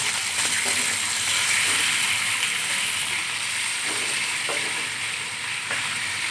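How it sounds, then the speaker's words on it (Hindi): Chicken pieces fry in a karahi with a steady, close sizzle and a few soft stirring clicks and scrapes throughout. "और चिकन को अच्छी तरह पका लेंगे।"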